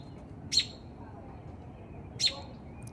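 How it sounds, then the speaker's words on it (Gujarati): Two short, high bird chirps outdoors, one near the start and one past the middle, standing out over a low steady background hum. "પક્ષીનો અવાજ સંભળાય છે."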